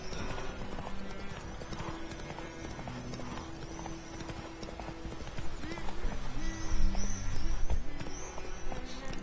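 Horse hooves clip-clopping in The Witcher video game, a steady rhythmic hoofbeat under a game soundscape, with a brief whinny near the end.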